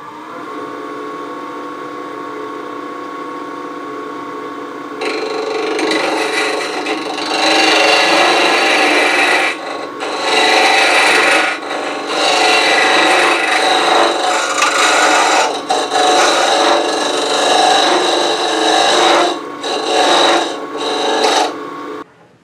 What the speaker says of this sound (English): I'm going to see if I can get a little deep with this box scraper